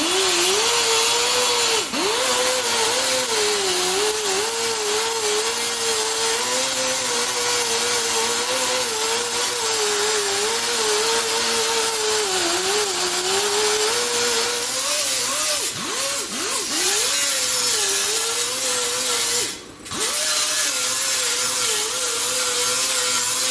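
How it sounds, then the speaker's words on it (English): A grinder grinds spot welds flat on metal bodywork, a steady loud high whine held nearly unbroken for the whole stretch, its pitch dipping briefly as the tool is pressed and lifted. "I went ahead and I grinded all that off, grinded it flat"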